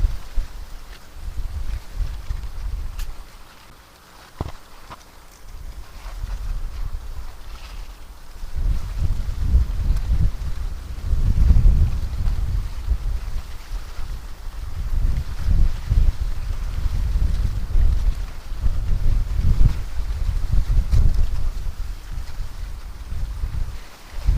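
Strong wind blows over a reservoir, hitting the microphone in deep, rumbling gusts that rise and fall, with a short lull early on and no voices.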